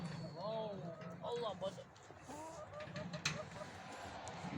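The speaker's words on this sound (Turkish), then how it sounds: "Tavuklarımız." Several chickens cluck and squawk nearby on a farm in an uneven chorus, with murmuring voices and outdoor noise mixed underneath.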